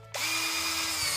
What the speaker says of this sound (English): So I'm using my electric drill,